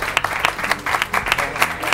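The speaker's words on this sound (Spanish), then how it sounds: "Un aplauso para el rey del paralelo" A television studio audience breaks into applause for a guest on a Spanish talk show, a short, full burst of clapping with pulsing swells.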